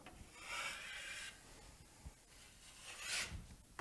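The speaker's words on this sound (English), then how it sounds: "push down on the bottom edge of the blade so that this is scraping up" A stainless steel flexible joint knife blade scraping along a surface in a few rough rasping strokes, quiet and close, with brief pauses between passes.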